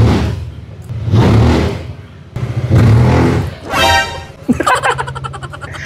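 Zontes 400M motorcycle engine revved in bursts, several loud swelling roars rising and falling with pauses between, close to the listener, followed by a sharp broken rattle at the end.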